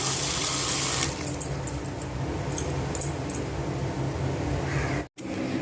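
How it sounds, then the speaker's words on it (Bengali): Water draining from soaked soybean chunks in a kitchen, a steady close rush of pouring that thins after the first second into a softer trickle with faint drips. "এগুলো সব এরকম করে জল ঝরিয়ে শুকনো করে নিয়ে চলে আসছি"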